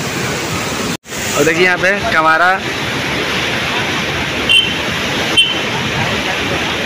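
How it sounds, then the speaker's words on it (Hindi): Water rushes loudly and continuously through a village canal, a dense broadband roar close to the microphone, while someone speaks over it briefly. "पानी उधर बहुत ज़्यादा है और इसको और ऊपर किया जा रहा है ताकि और तेज़ी से पानी"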